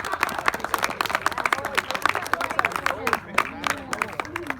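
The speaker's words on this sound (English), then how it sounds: "Pass the baseball. Round of applause." Applause and clapping for a baseball team at an Avalanche Grand Slam tournament ceremony, a dense crowd of claps running throughout, with voices and cheers mixed in.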